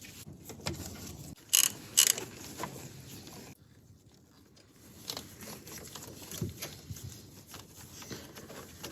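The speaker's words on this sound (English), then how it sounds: "Remove this nut to disconnect all these wires from the starter motor." A wrench loosens the nut holding the wires on the starter motor of a VW Mk1/Mk2/Mk3, making close, scattered metallic clicks, ticks and light scrapes, with a sharper pair of clicks early on.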